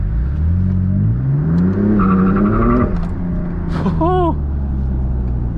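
A BMW M4 in second gear around 2,000–3,000 RPM, drifting with its tires spinning on dry asphalt: a loud, close engine drone rises steadily, with brief squealing and a short spoken exclamation over it.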